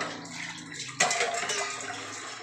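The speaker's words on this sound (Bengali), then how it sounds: "এবার দেখো আমি জল দিয়ে দিলাম।" Water is poured into a cooking pot of curry, a sudden splash followed by a steady pouring gush for over a second, with no talk.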